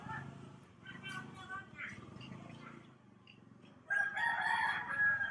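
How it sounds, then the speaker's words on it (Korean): A rooster crows outdoors by a street in Indonesia near hens and chickens, a bright call rising near the end, with someone talking over the background for most of the stretch. "수탉 소리가 들립니다."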